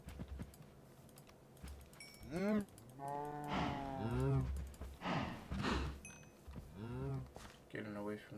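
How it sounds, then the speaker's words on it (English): Minecraft cows moo repeatedly in drawn-out, mid-loud calls, several overlapping in quick succession, with keyboard typing clicking softly underneath. "Getting away from those cows are annoying."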